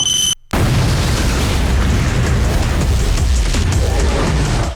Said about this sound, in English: Uh-oh, it's a bomb.